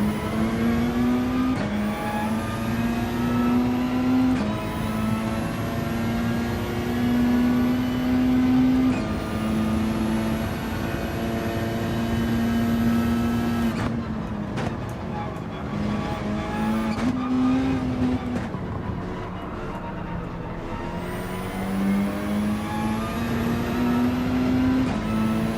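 A race car engine in Gran Turismo 7 during a manufacturers cup final round practice climbs in pitch through repeated upshifts, a loud, continuous whine that drops briefly at each gear change, with a stretch of hard braking and downshifting midway.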